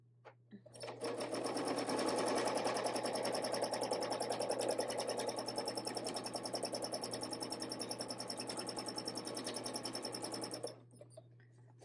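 A domestic sewing machine stitches with Aurifil 40wt thread, a close, fast, even mechanical whir and rapid needle clatter that runs for about ten seconds and then stops abruptly.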